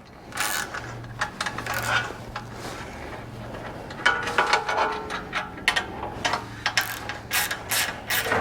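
Bolts on a roof rack for a 2022+ Nissan Frontier are tightened with a ratcheting wrench and an Allen key, giving rapid bursts of crisp close ratchet clicks in irregular runs, with a low steady hum underneath.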